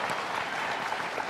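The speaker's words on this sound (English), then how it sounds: "can you guys give them a big round of applause for that?" Audience applause at a live comedy show, a dense steady clatter of clapping that fills the whole short stretch at even loudness with no talk over it.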